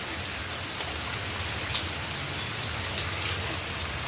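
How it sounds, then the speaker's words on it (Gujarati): Steady, continuous rain falls evenly with a soft broadband hiss and a few slightly louder drops now and then, with no wind; no voices. "કન્ટિન્યુઅસ ચાલુ જ છે વરસાદ"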